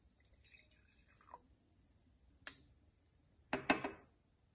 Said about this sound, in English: pour the rest of the seawater sample into the conical